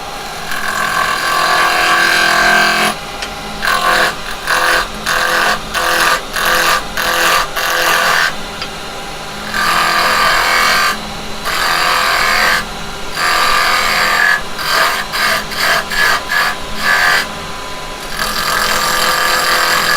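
A wood lathe turns a piece while a carbide detail chisel cuts it, giving loud, bursting scraping and whirring passes broken by short pauses, close up with no talk.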